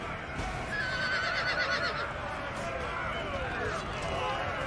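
Cavalry horses neigh and whinny in the battle game Napoleon: Total War, a loud drawn-out horse call over constant combat din and hoofbeats.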